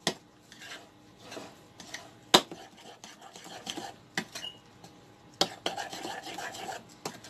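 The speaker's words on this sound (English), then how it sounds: "Going to stir it together." Seasoning stirred together in a bowl with Maggi for a Christmas turkey, a run of close clinks and scrapes of a utensil against the dish, irregular and fairly quiet, with a soft voice faintly under it.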